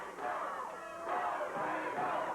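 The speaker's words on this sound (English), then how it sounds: "The fans cheering as they get behind Too Sexy Brian Christopher" Wrestling fans cheering for Too Sexy Brian Christopher at a Memphis Power Pro Wrestling show in 1998, a steady, fairly distant crowd roar with shouts rising and swelling through the moment.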